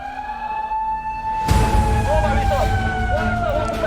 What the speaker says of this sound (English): Sirens going again.